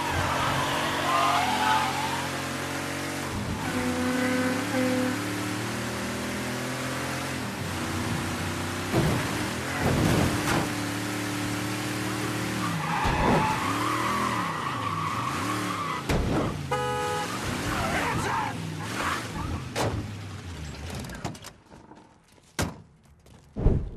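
Car in the Mafia 3 video game driving hard with repeated tire skids and squeals, engine roaring steadily, a few thumps of impact along the way, loud and up close before cutting out near the end.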